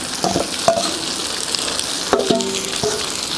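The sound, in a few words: raw banana slices frying and sizzling in a pan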